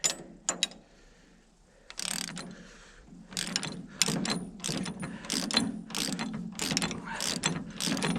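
A ratchet wrench tightens a bolt on a Woodland Mills HM126 sawmill upgrade kit, giving a quiet, close series of clicking strokes that start sparse and become a steady, rapid run.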